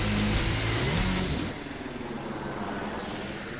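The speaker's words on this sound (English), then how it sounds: "it sounded like just a helicopter flying overhead" A helicopter passes overhead at the close of a heavy music track, with a loud rotor wash and drone as the music drops away, then a fading, steady rumble.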